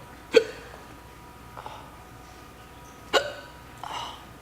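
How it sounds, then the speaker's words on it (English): A person hiccups twice with sharp, abrupt gulps a few seconds apart, close and clear, with faint breathy sounds between them. "I've got the hiccups"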